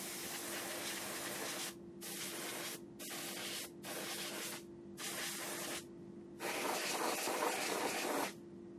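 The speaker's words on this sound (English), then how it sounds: "let me spray some stuff" An aerosol spray can hisses in repeated bursts, five short sprays of about a second each, then a longer spray near the end, loud and close with no talk.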